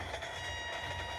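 A train rumbles along in a train video game, a steady low drone with faint tonal hum and mechanical rattle, quiet and continuous with no speech.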